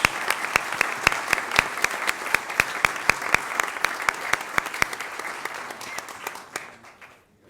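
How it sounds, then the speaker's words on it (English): Audience applause for award winners at a recognition ceremony, a full steady round of clapping with a few sharp loud claps standing out, fading away at the end. "Let's give them one big round of applause for all our winners."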